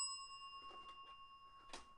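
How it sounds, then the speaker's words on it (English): Small bell dinged once during a baseball trading card case break, a faint, clear ring that hangs and slowly fades across the short stretch, with light handling noises. "A little bell ding for you there."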